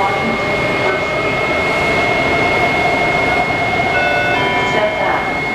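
DC Metro 7000 series Orange Line train running toward Vienna, a steady loud rumble of wheels and motors with a sustained high whine, heard from inside the car.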